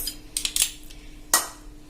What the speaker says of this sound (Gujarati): એ આપણે આ સાકરમાં મિક્સ કરી દઈશું